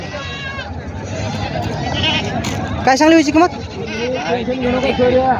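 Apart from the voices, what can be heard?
goats bleating at goat market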